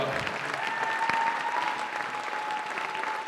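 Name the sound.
congregation applause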